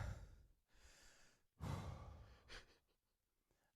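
Heavy breathing during a sports radio show: two long, loud exhalations with a pause between them, followed by quieter, fading breaths.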